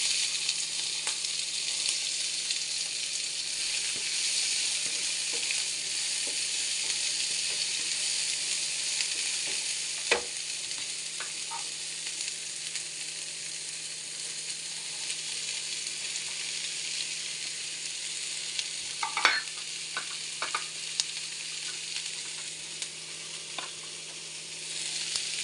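Chopped ivy gourd (kovakka) sizzles steadily in a hot pan for a thoron stir-fry, a dense continuous frying hiss with occasional faint clinks and stirring scrapes, close and alone without talk.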